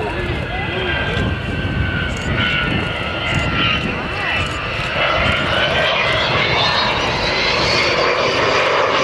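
A large multi-engine aircraft, the Vulcan flown on the Black Buck raid of the Falklands campaign, roars loudly and continuously overhead at the Leuchars airshow. Its engine drone sweeps slowly in pitch, and crowd voices sit faintly underneath.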